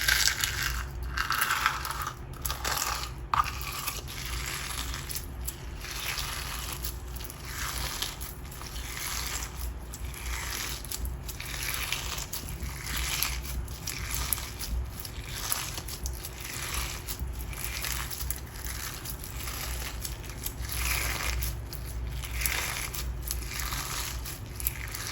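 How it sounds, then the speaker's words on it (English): Slime mixed with lava rock pieces is squished and crunched by hand in a steady, repeated rhythm of close, crisp crackles and gritty pops, continuing without talk. "I took out the extra base so we can get some lava rock crunch"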